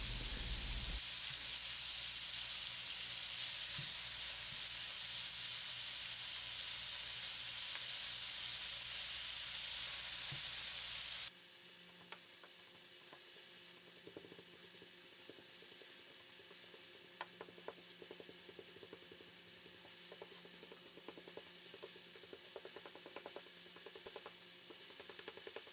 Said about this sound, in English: Let the meat come together with the scallions and grill for a few minutes.